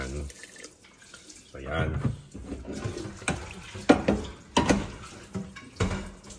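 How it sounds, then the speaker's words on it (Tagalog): Water is poured into a cooking pot while making sardine paksiw with coconut milk, splashing in uneven gushes and drips under a person's talk. "Dagdagan ko pa ng konting tubig"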